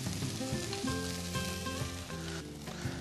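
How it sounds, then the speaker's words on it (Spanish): Cooked rice hits a hot pan and sizzles steadily while the rice-and-zucchini base for steamed hake with truffle is prepared. The frying hiss is close and continuous, with no talking. "echamos aquí el arroz cocido."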